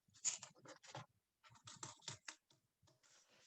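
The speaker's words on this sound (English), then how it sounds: "Just make sure you have a good sharp pair of scissors" Sharp scissors snipping through woven fabric along a marked line, a run of quiet crisp cuts in short bursts with brief pauses, close up.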